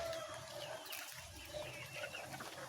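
Faint clucking from backyard chickens at feeding time, low and continuous against a quiet outdoor background, with no talking.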